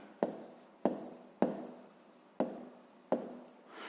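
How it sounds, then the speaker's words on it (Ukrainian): A pen writes a fifth-grade math answer on paper in close, quiet strokes: five distinct scratchy bursts spaced about half a second apart, each fading quickly, with no talking. "Ну і записуємо."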